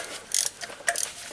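A ratchet clicks in two short bursts as bolts are snugged down during a Nissan Rogue transmission installation, close and fairly quiet, with faint mechanical rattles between.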